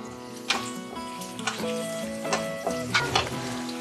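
Steady sizzling of chopped cauliflower frying in a pan with a few clanks of a utensil stirring, over a faint background hum.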